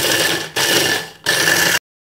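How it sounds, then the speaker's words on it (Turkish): Food processor grinding dried eggshells into powder, heard in three loud, continuous whirring bursts of about half a second each with brief gaps, then stopping abruptly into silence. "Robotla şöyle güzelce çekiyoruz toz haline getirmek için."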